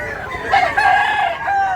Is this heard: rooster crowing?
yes